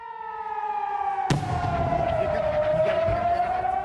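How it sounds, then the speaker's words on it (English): Loud air raid sirens in Ashkelon, Israel hold a steady rising and falling wail, joined by a sharp burst partway through, with indistinct voices underneath. "The sirens sounded again in Ashkelon as we sat and talked."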